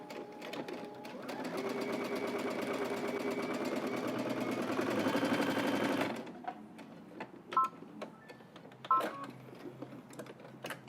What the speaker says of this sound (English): do 2 rows of basting stitches so we can do gathering from the notch here to the notch that's at the center front